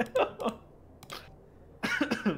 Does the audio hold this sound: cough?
yes